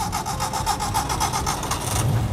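An old mikrolet public minibus from Jakarta runs its engine with a steady, rough, rattling drone and rhythmic pulsing. It is close and fairly loud, with no talking.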